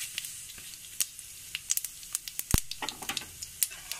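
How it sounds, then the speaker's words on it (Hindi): Cumin seeds sizzle and crackle in hot mustard oil in a kadhai, with a quiet steady hiss broken by scattered sharp pops and spits throughout. "इसमें हम जीरा डाल देंगे।"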